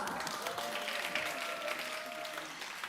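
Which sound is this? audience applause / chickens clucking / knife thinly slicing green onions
audience applause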